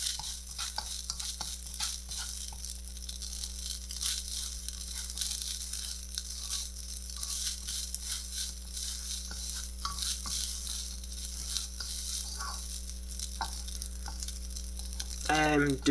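Crab fried rice is stirred in a pan, with continuous sizzling under repeated scraping and tossing strokes and a louder clatter near the end; no one speaks.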